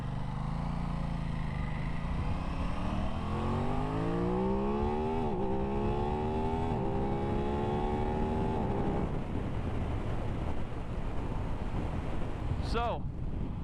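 A new motorcycle with a stock exhaust climbs through high RPM, its rising engine tone sweeping upward and holding steady before fading, buffeted throughout by loud wind noise; a short whine chirps near the end.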